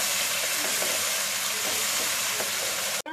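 Masala sizzling hard in a pan, fried in meat stock instead of water for a dhaba-style chicken bharta, a steady dense hiss with faint stirring scrapes, close and continuous, cutting off abruptly at the end.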